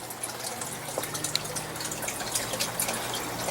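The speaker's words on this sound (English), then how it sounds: "it catches the drips from the ceiling and drips it back down into the fish tank" Overhead condensation drips from a greenhouse ceiling and falls back into a fish tank, giving faint, scattered plinks over a steady low wash of water and background hum.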